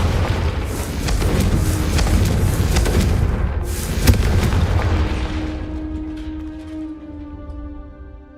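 The Confringo blasting spell in the Hogwarts Legacy video game detonates as a deep, heavy boom with a rumbling burst, followed by a sharp crack midway and a ringing, fading tail.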